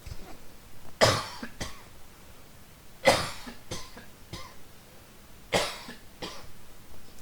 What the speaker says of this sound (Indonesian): Maaf, tadi batuk dulu.